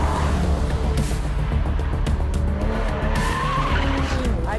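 A Lamborghini Aventador SVJ or McLaren 720S hypersport convertible accelerates hard on a track, engine roaring loud and close with skidding tire squeal throughout, a voice talking briefly over it.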